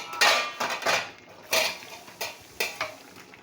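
Fried fish goes into a pot of boiling fig curry for a Bengali fish jhol, marked by several sharp metallic clanks of a utensil against the pot at uneven intervals, with no talking.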